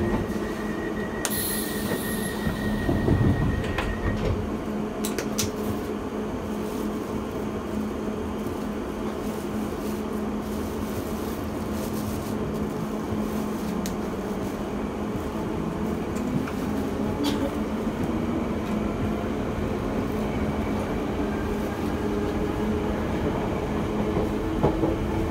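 A London Underground Piccadilly Line train runs along the track with a steady rumble, wheels clattering and squealing, and a brief high tone and chime near the start, loud and close with no talk.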